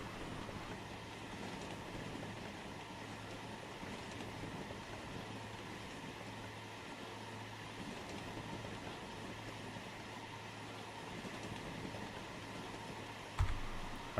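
A train runs in the Transport Fever 2 game as a faint, steady rolling rumble with a low hum, ending in a brief sharp knock near the close.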